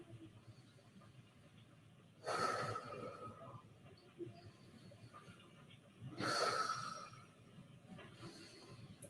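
Slow, deep breaths during a prenatal yoga side stretch, two long airy exhales a few seconds apart, soft and close against a quiet room.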